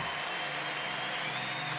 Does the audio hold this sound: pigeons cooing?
no